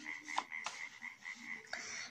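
A frog croaks in a children's story, a few short, nasal croaks spaced across a couple of seconds, fairly quiet and with no talking over them.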